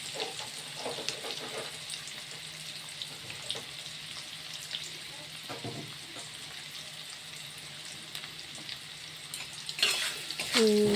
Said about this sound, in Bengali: পেঁয়াজটা লাল লাল করে ভাজা ভাজা করে নিচ্ছে